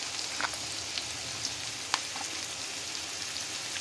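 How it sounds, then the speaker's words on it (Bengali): Turmeric powder, chicken masala and chili powder fry in a pan for a chela fish curry, giving a steady soft sizzle with scattered faint crackles and pops, no voices. "এবার এই মশলাগুলোকে আমরা খুব ভালোভাবে ভাজা করে নেব।"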